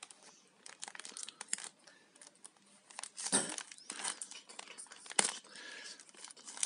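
A plastic package is torn open and crinkled, with irregular rustles and a couple of sharper rips, fairly close and quiet, with no voices.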